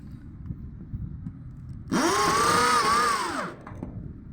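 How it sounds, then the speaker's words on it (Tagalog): A power drill drives a Voltex screw into roofing on an installation job, a single close, loud whine lasting about a second and a half, rising then steady, standing out over quiet background noise. "Ito ay nagpo-Voltex. Voltex screw."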